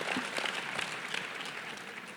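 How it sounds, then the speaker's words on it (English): Audience applause at a public discussion of the film Emanuel, a faint, steady patter of many hands clapping for about two seconds with no voices over it. "Round of applause for"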